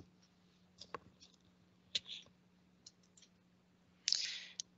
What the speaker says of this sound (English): the sound of your typing is distracting